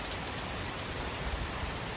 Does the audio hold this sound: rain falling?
yes